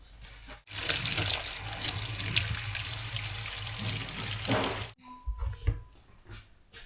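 Kitchen tap water gushing steadily into a sink to soak frozen shrimp, a loud, close, continuous rush lasting several seconds before the flow cuts off, followed by a few clinks and handling sounds.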